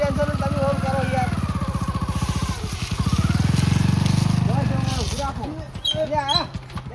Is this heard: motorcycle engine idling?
yes